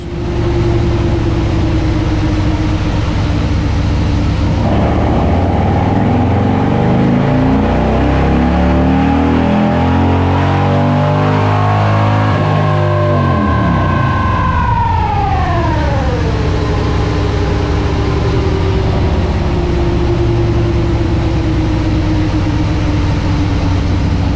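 A Harley-Davidson Road Glide with a 124ci Milwaukee-Eight V-twin runs loud and close on a dyno. It idles, then winds up in a long rising pull and drops back to a rumbling idle.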